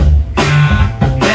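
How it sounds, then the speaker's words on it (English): A simple drum beat of low kick thumps alternating with sharper snare hits, a drummer's part from a song, close and steady, with a bass-heavy tone running underneath. "He's just playing the kick and the snare."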